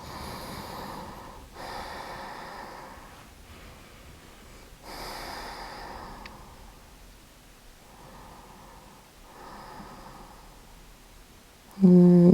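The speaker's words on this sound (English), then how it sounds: "Breathing here." Slow, soft breaths drawn in and out during a passive inner-thigh stretch in a hip-opening yoga session, with several gentle, airy cycles at close range, quiet and unhurried, with no talk.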